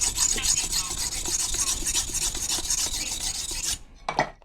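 Steady rasping of a rubber-tapping knife blade being honed, continuous rapid scraping strokes for almost four seconds, then a short pause and one brief final rub.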